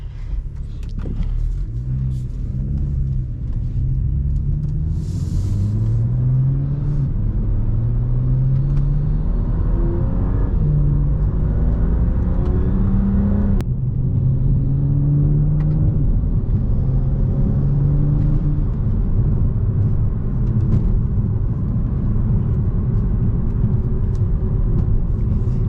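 A warmed-up BMW E92 335is with lowered, stiffened rear suspension drives along, its engine droning loudly and continuously as revs climb and fall through several gear pulls, with steady road rumble and no talking.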